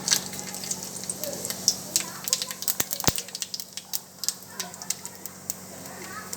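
Cumin and nigella seeds sizzle in hot oil with a crackling, spattering hiss full of small pops, close by, while a person speaks.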